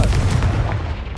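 The Confringo explosive spell from the Hogwarts Legacy video game goes off as a single loud, booming blast with a heavy low rumble that fills the brief moment, with no voices.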